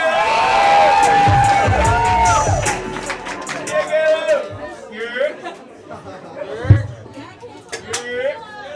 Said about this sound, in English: Please give a big round of applause for